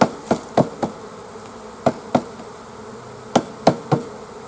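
Bees are shaken and tapped off wooden hive frames: a series of sharp knocks in irregular clusters ring out over a constant background buzz of bees, with no talk.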